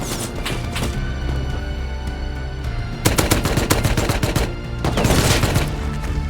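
Loud, rapid AK rifle fire in the survival game Rust, dense automatic bursts, near and continuous, intensifying in the latter half with sharp repeated cracks.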